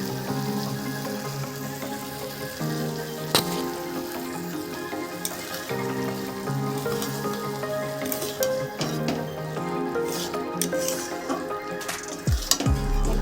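Poppy seed and green chili paste is stirred in a hot pan, giving a continuous close sizzle with scraping and occasional clinks of the utensil against the pan.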